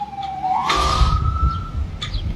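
A siren wails outside during an outdoor endorsement event for a Rhode Island congressional race, a rising tone sweeping up and holding steady over a low rumble of traffic, fairly close and loud.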